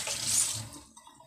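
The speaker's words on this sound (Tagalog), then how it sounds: "Maghugas na akong mga kamay." A kitchen tap runs briefly while hands are washed during cooking, a short burst of hissing water close by that fades out after about a second.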